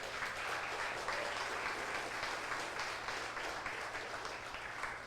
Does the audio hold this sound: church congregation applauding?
yes